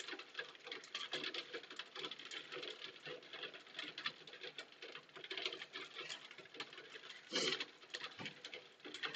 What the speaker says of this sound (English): Yes, it's hailing.